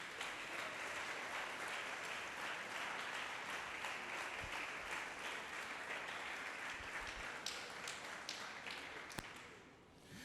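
A church congregation applauds, a steady wash of many hands clapping at moderate distance that thins out near the end, with a few sharper individual claps.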